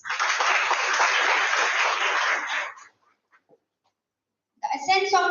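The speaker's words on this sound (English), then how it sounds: "Let us welcome them with a huge round of applause." An audience at an International Women's Day celebration at a university in Nagpur claps in welcome, a dense burst of applause that fades out after about three seconds, followed by a pause and then a voice.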